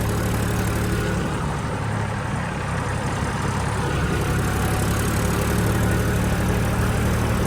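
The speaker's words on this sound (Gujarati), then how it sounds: "હું નીકળી ગયો છું ટ્રેક્ટર લઈને" A tractor engine runs steadily in the early morning, a constant low droning rumble that stays loud and even throughout, with no speech.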